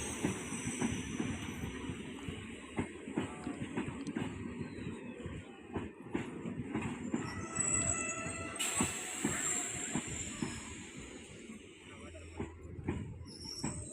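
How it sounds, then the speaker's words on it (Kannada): A passenger train sitting at a station, a low continuous rumble with scattered clanks and a brief hiss and tonal whine partway through, moderately distant and without speech. "ಇದೇ ಟ್ರೈನಲ್ಲಿ ಇವತ್ತು ನಾವು ಜರ್ನಿ ಮಾಡ್ತಾ ಇರೋದು."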